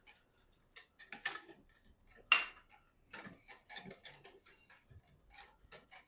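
Wire whisk clinking against a pot as sugar mixed with pectin is stirred into boiling liquid, a run of light rapid metallic ticks and scrapes at moderate distance, with a few brief voice sounds.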